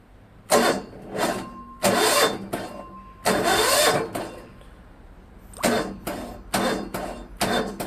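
A car engine cranks on a weak, partly restored battery and fails to start: several sluggish starter bursts, each a second or so long, separated by pauses, close and loud.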